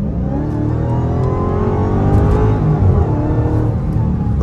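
A 2022 Dodge Hellcat Redeye on bald tires accelerates hard in eco mode, its supercharged engine roaring loud and close inside the cabin, the drone climbing in pitch through the pull.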